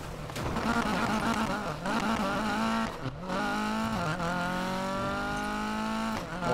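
A Volvo Amazon P130 racing car engine in a video game revs steadily with a loud, harmonic drone, dipping briefly and climbing again as it shifts gears.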